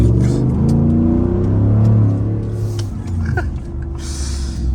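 A loud Ford F-150 with a 5.0 V8 accelerates through morning traffic, its deep exhaust rumble rising in pitch, heard close from inside the cab, with a little background noise.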